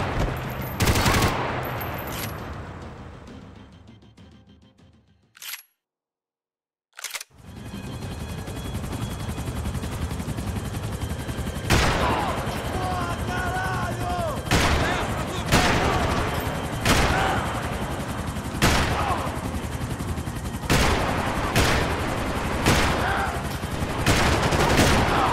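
Gunfire in the Max Payne 3 video game: loud, repeated shots and bursts crack across a busy action soundscape, broken by a brief dead-silent gap early on, with occasional voices under the shooting.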